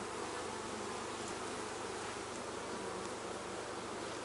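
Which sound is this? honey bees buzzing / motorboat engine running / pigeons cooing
honey bees buzzing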